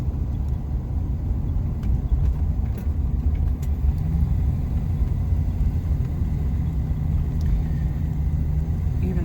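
Cars in packed traffic along a coastal town street, a steady broadband road rumble of engines and tires, moderately loud and continuous with no talk.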